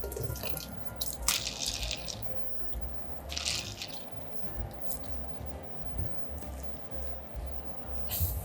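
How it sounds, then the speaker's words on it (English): Spinach is plunged into cold water with a spider strainer, giving soft splashing, dripping and sloshing that is faint and steady, with a few louder swishes. "Now let's take this spinach and we're gonna plunge this into our cold water."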